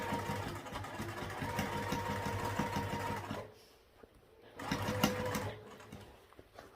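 A sewing machine stitches non-stretchy fabric around the corners of a crossbody bag, running in a close, steady mechanical rattle, then pausing briefly before a second shorter run.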